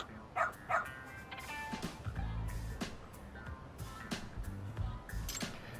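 A dog barking in the video game Lost Judgment, two short yips near the start over a busy street-like game soundscape with low rumbles and scattered clicks.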